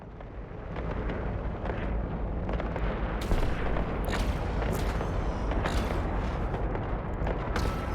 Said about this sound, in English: So let's just turn all of our cannons on and make this guy pay.